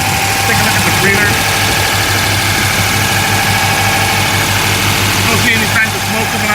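A 1959 Chevrolet Corvette engine idles at high RPM, a steady loud drone running the whole time with no talking.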